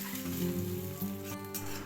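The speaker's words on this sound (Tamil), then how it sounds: "இன்னொரு கடாயில் கொஞ்சமாக ஆயில், முட்டையை உடைச்சி சேர்த்துக்கிறேன்." Egg with pepper and salt scrambling in a little oil in a kadai, giving a continuous close sizzle with a steady hum underneath and a slight shift as it is stirred.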